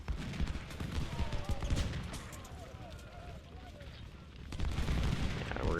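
Musket volleys and artillery blasts rumble in a Civil War battle in Ultimate General: Civil War, with dense, continuous gunfire rolling at mid distance and swelling louder near the end, under faint talk.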